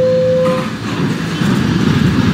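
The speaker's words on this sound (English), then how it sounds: "This is a Manhattan-bound B Express train." Manhattan-bound B Express subway train at Newkirk Plaza station, a brief steady tone fading into a loud continuous rumble of rolling cars.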